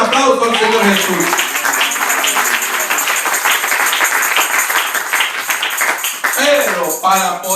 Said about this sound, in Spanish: ¿Cuánto le pueden dar un aplauso al Señor Jesús?